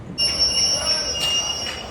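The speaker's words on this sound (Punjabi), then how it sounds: "ਮਾਰਤੀ ਬ੍ਰੇਕ ਪਾਈ ਟ੍ਰੇਨ ਨੇ" A passenger train braking at a quiet railway station gives a sustained, piercing high-pitched wheel squeal that starts abruptly and holds steady over a low rumble, close and loud.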